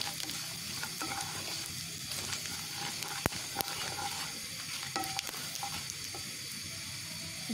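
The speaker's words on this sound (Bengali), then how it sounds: "দিয়ে দিচ্ছি হাফ চা চামচ পরিমাণ পাঁচফোড়ন, এটাকে একটু তেলের সাথে ভেজে নেব" Panch phoron spices sizzle in hot oil in a pan, a quiet, steady frying hiss with occasional small clicks and stirring taps.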